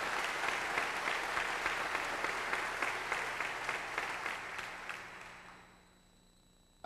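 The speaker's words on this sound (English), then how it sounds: "Please give Robert, along with the members of our Board of Trustees, a warm round of applause." Audience applause at the National Urban League conference keynote, a dense sustained round of clapping from a large crowd that holds steady for about five seconds and then fades away.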